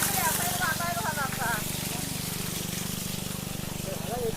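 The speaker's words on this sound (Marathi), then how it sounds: "हा शेतामध्ये पाणी आलंय" Water flows into a rice field in the Konkan countryside, a continuous close trickle under a voice that speaks at the start and again near the end.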